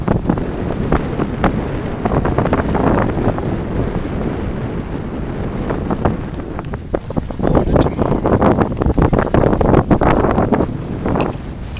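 Wind rushes steadily past a sailboat on sea trials under a trimmed jib, a loud continuous gusty roar with buffeting on the microphone, water swishing beneath it, and no voices.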